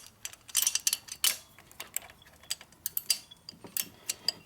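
Wrench tightening bolts on the intake manifold of a 1949 Harley-Davidson Panhead 74ci engine, heard as a rapid, irregular series of close metallic ratchet clicks and ticks.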